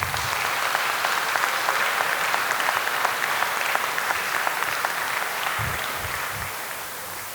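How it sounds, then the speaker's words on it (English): Steady audience applause at a senior recognition ceremony, honoring a school counseling team, with many hands clapping in a hall, loud and sustained, easing slightly toward the end. "Give them a round of applause."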